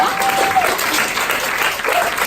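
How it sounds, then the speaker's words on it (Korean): Audience applause at an indoor seminar lecture, steady dense clapping throughout, with a voice speaking faintly over it. "다시 한번 큰 박수 부탁드리겠습니다"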